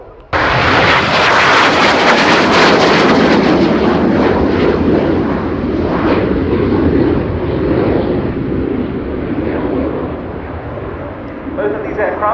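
Spanish Navy aircraft from the 9th Squadron at Rota flying past at the RIAT 2019 airshow, a loud sustained jet roar that swells at first and then slowly fades, with no talking.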